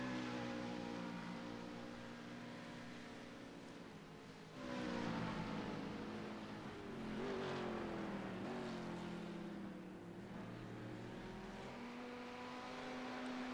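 A BMW race car with smoke trailing circles a sports-car circuit back toward pit road; a faint, continuous engine drone with rising and falling pitch as it accelerates and eases, heard from a distance.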